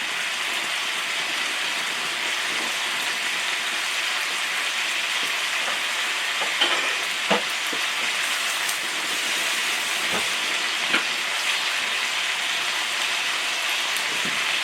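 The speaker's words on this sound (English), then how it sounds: "The broccoli I put in there. The snap peas. And I'll let that cook down." Broccoli and snap peas sizzle steadily in a stir fry pan, a dense continuous hiss with occasional soft pops and clinks.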